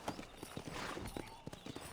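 Hooves clip-clop as a horse is ridden in the video game Red Dead Redemption, quiet irregular thuds in a loose gallop rhythm alone over soft background ambience.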